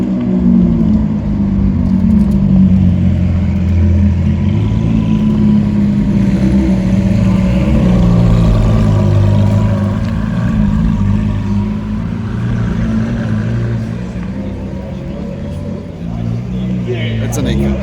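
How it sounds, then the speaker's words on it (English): Two Lamborghini Aventador V12 supercars rev and drive through Auckland, a loud, steady low engine drone that swells and eases over the stretch, with someone talking over it. "Seems like we got company. Two Aventadors."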